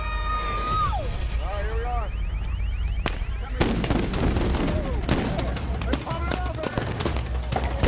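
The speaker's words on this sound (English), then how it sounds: "It seems like they're throwing flash bombs now." Flash-bang explosions fired by police at a nighttime protest in Ferguson, a series of sharp loud bangs and cracks from about three seconds on, with a whining siren-like tone early and people talking underneath.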